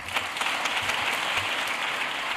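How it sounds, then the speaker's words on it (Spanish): Sustained, dense applause fills the chamber of Spain's Congress of Deputies, a steady roar of many hands clapping throughout with no voices standing out. "fue jaleado con aplausos en el Congreso de los Diputados de España"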